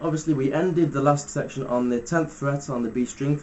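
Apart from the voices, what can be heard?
No everyday noise stands out behind the speech.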